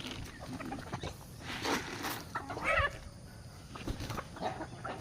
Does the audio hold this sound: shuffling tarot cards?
no